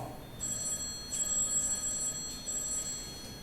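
A telephone rings on stage during a theatre play, a faint electronic trill repeating twice over quiet hall ambience, with no one talking.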